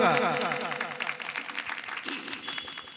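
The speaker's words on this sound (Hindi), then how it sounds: "जोरदार तालियों से स्वागत करें उनका" Crowd applause welcoming a local opposition leader at a three-day Ramkatha gathering, dense sustained clapping with musical tones and a voice over the start, easing a little as it continues.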